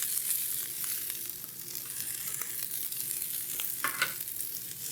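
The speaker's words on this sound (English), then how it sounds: "we're going to toss the veggies in, and we're going to let those cook" Vegetables fry in a pan for vegan basil pesto pasta, with a steady close sizzle and scattered crackles and light stirring clicks, no voices.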